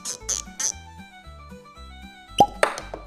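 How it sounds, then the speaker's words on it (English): Cork popping out of a whiskey bottle, heard as two sharp close pops near the end of an otherwise quiet moment with soft low sounds before them. "The best part of opening any bottle of whiskey."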